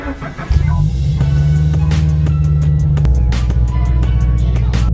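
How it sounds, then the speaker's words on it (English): A car with a newly installed engine idles steadily while warming up before driving, a loud continuous low rumble that settles into a deeper, even drone partway through, with faint ticks and clatter on top. "letting the car kind of run a little bit before I actually start driving it"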